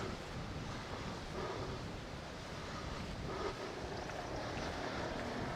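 Strong wind gusting on the coast at Costa Teguise, a steady loud broadband roar with waves and surf mixed in, continuous and close to the microphone without any talking.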